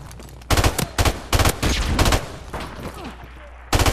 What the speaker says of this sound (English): I had to shoot him three times. It took three bursts.